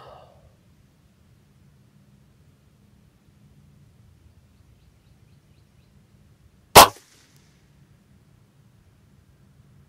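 One sharp, brief crack from a .22 pellet air rifle fitted with a MidTen 3-9x32 scope rings out alone after a long quiet stretch, close and distinct over faint background hum.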